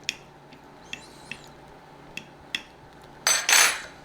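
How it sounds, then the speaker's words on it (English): A fork pokes holes into a pure-lard pie crust for a Southern onion pie, giving several sharp, light clicks and taps spaced irregularly, followed by two louder, brief scraping bursts near the end. "We're going to put a few holes in the bottom of this"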